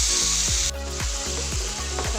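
Steady, loud sizzling of bhol fish frying in a pan, with a regular soft knocking beneath it, as of a spoon against the pan.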